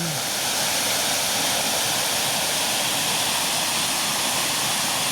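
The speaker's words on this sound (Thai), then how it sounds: "น้ำตกตะโนด ที่เพิ่นบอกครับว่าจะได้เป็นน้ำตกตะโนด" Tanod waterfall in Thailand roaring as a loud, steady, dense rush of falling water, unbroken throughout with no voices.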